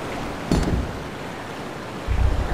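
Rushing water in Resident Evil 2, a steady broadband wash with a brief loud surge early on and another swelling rumble near the end, no voices present.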